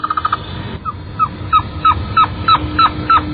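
Recorded birdsong is played back from a recorder to attract birds: a loud, close series of short, sharp chirps repeated in a steady rhythm over a low background hum.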